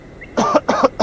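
A man coughs three times in quick succession, close and loud against a quiet background.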